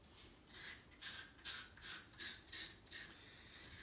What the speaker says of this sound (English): I'm going to get the wet dry sandpaper.